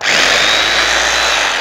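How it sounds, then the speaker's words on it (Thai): A Kanto KTB-65A electric chipping hammer runs continuously at full power, giving a loud, steady, harsh mechanical roar with no pauses and no voices. "ไปเจาะกันต่อเลยครับ"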